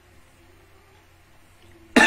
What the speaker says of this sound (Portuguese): a tosse tem hora que a garganta muito seca